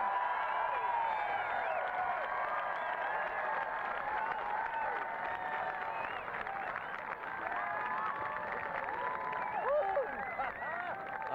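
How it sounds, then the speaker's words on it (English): A crowd at a night balloon fiesta landing applauds and cheers after touchdown, a sustained wash of clapping, whoops and whistles spread around at a distance. "I think you can really hear how much they enjoyed that tonight."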